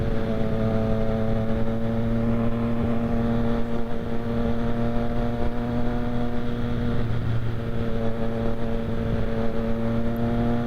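A Triumph Street Triple R motorcycle cruises steadily with a constant, droning engine note and wind rush, riding in a group on Dallas streets, with no talking over it.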